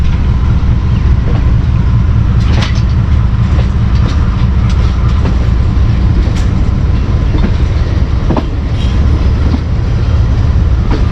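Express train from Sargodha Junction, with an HPU20 locomotive attached, running steadily on rails. The rumble is loud and continuous, with clickety-clack wheel beats at irregular intervals.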